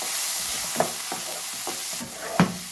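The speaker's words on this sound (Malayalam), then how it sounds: "ഇത് നല്ലതുപോലെ ഇതുപോലെ ഒന്ന് ഇളക്കി കൊടുക്കണം മസാലയൊക്കെ എല്ലായിടത്തും പിടിക്കാനായിട്ട്" Chicken and egg with chilli powder, garam masala and coriander powder are stirred in a pan, a soft continuous sizzle broken by a few scraping strokes of the spoon, with no talk.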